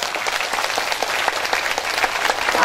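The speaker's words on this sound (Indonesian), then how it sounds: "Tepuk tangan." A crowd at an Islamic boarding school gathering applauds in a brief, dense round of clapping that carries evenly throughout.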